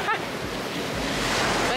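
Strong wind buffets the microphone at a cold, windy beach, with broadband roaring gusts and surf noise continuous and loud throughout, no talk.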